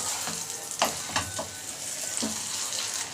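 A fish roe omelette sizzles and fries in oil in a pan, a steady close crackle with a few sharper spits and stirring scrapes, no voices.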